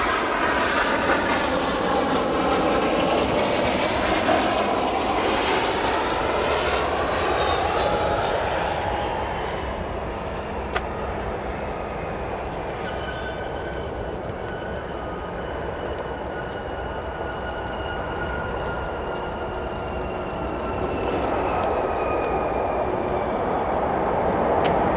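A China Airlines Cargo jet on final approach into O'Hare passes with a loud engine roar and a sweeping whine that shifts in pitch as it goes by, then fades slightly before swelling again near the end.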